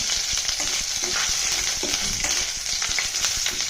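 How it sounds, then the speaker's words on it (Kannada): Garlic frying in a pan for North Karnataka-style fenugreek kadubu sizzles in a dense, steady hiss, with small crackles and pops throughout, close and continuous, with no talking. "ಬೆಳ್ಳುಳ್ಳಿ ಮಸ್ತ್ ಹುರ್ಕೊಂಡಾರ ನೋಡ್ರಿ"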